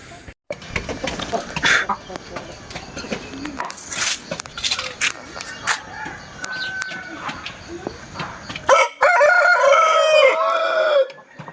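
A hill chicken rooster at a market crows once, loud and close, near the end, after a stretch of busy background clucking and rustling, with a person speaking briefly over it.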